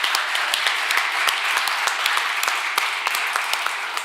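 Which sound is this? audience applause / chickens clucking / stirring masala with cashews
audience applause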